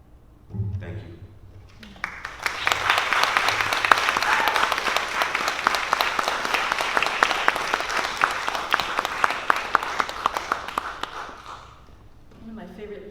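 Audience applause at a writers summit for debut authors swells after a brief spoken thank-you, a dense run of claps holding strong for several seconds before thinning out, with a voice talking briefly at each end.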